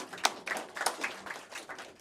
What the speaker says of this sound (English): I think, we should give a round of applause to all the panel speakers.